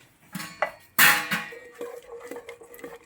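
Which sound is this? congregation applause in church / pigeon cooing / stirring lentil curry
stirring lentil curry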